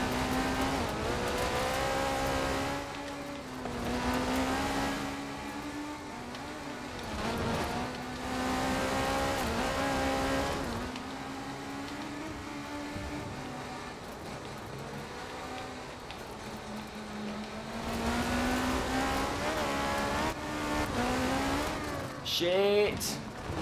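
Race car engine in an S1 class racing video game on a cliffside course, droning steadily throughout with rising and falling revs and gear shifts, loud and close, while a person talks over it.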